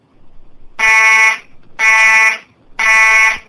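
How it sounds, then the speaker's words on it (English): A supermarket fire alarm blares in three loud, evenly spaced electronic bursts, each about half a second long with short gaps of quiet between them, and no talking. "why is the fire alarm going off?"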